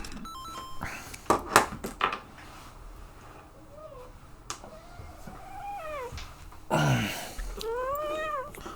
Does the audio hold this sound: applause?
no